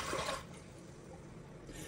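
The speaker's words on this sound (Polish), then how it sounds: "I do pełna dolewam teraz wody." Water poured from a tap into a dish holding a duck soaking in soy sauce, a brief gushing splash at the start fading to a quieter steady trickle, faint and close, with no talking.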